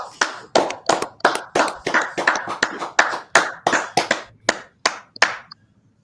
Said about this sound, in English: give him a big old round of applause